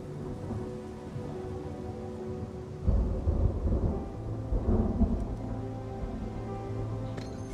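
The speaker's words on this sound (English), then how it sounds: "Without lightning to give warning, the sound of thunder is quite startling" Thunder rumbles in a rainy storm scene in the video game Genshin Impact. A low crack breaks out partway through and rolls on heavily over steady rain hiss, without any speech.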